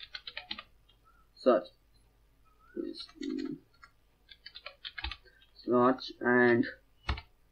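Light clicking keystrokes on a computer keyboard come in short scattered runs, fairly close and quiet, interleaved with a man's speech.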